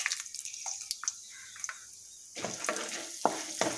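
Chana dal dropped into hot coconut oil in a pan, first quiet crackling pops and spatula taps, then a louder bubbling sizzle with scraping stirs, close and with no talking.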